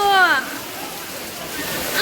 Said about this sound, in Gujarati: સંજયભાઈ વરસાદ આવ્યો ક્યાં?